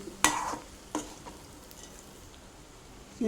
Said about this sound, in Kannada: ಟೊಮೆಟೊ ಹುಣಸೆಹಣ್ಣು ಇದನ್ನೆಲ್ಲ ಮಿಕ್ಸ್ ಮಾಡ್ಕೊಂಡು ಚೆನ್ನಾಗಿ ಕುರ್ಕೋಬೇಕು